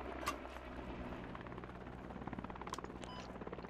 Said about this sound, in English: Enemy heli approaching from the south